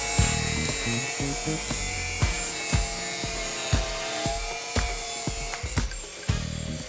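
Thin 1.6 mm cutting wheel on an angle grinder slicing through 25 mm metal tubing, a steady high whine with a string of sharp clicking ticks running through it, close and loud.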